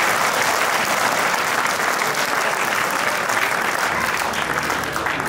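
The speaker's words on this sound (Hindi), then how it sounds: "सारे लोग एक साथ तालियां बजाकर इस कवि सम्मेलन को प्रारंभ करने" Sustained, dense applause from a large audience at an outdoor Hindi poetry gathering in Paota, steady clapping from many hands throughout with no pauses.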